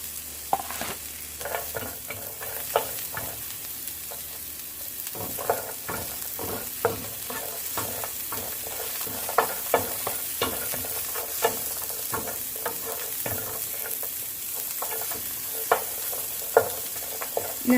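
Chopped carrot chunks and browned mushrooms stir-fry in a pan for a Korean black bean noodle dish, with a continuous close sizzle broken by frequent scraping and tossing clatters of the spatula.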